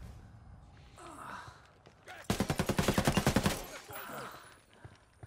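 A burst of rapid automatic gunfire from a video game, fired through walls, rings out for about a second as a tight run of loud, evenly spaced shots. Quieter breathy sounds and game noise come before and after.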